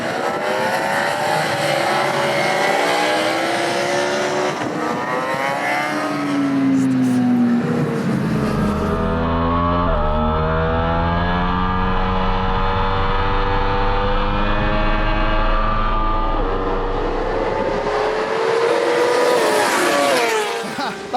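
A 2020 Yamaha YZF-R1 motorcycle ridden hard at full power, its engine note climbing and falling through gears with long rising revs, loud and close throughout, with wind and road noise around it.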